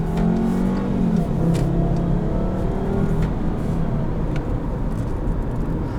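A 2013 Volkswagen Passat with a 2.5L five-cylinder engine downshifting for engine braking, giving a loud, steady low drone of engine and road noise from inside the cabin, with no talk over it.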